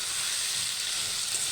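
Dried chillies frying in a little oil give a steady, close, fairly quiet sizzle that holds evenly throughout, with no voices.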